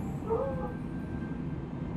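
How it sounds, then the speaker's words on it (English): A dog gives a single short, faint yelp over steady background noise, with no other voices. "That is a dog."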